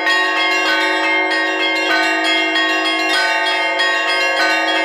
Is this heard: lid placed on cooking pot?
no